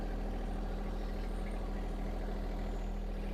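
A John Deere tractor engine idles steadily with its tires raised off the ground, a continuous low rumble that holds constant and fairly quiet throughout, with no talking.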